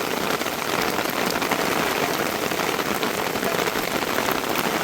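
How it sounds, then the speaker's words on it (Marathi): Heavy rain pours down in a dense, constant roar of drops hitting surfaces, loud and unbroken, with no voices. "पाऊस आता जोरातच आला एकदम."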